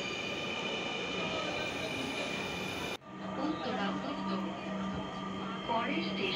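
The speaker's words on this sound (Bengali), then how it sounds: "ওঠার সাথে সাথে ট্রেন চলা শুরু করলো" Dhaka metro rail train pulling away from a station: a steady rumbling interior hum with a brief drop, then rising motor whine and rail noise as it begins moving, close and continuous.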